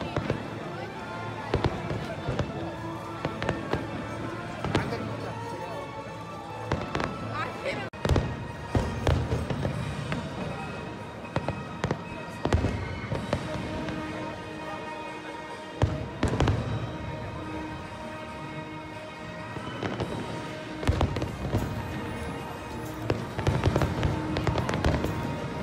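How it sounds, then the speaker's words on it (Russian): A fireworks display at Dubai Global Village sends out a dense run of booms and crackling bursts for about half a minute, with crowd noise and some talk underneath. "И кульминация вечера – это, конечно же, необыкновенно красивый салют."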